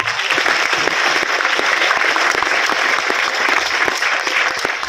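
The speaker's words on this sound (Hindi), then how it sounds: "मैं चाहता हूं कि जोरदार तालियों से उनका अभिनंदन करें" An audience at a state-level award and felicitation ceremony in Jaipur bursts into sustained, dense clapping honouring a recipient, loud and steady throughout with no voice on top.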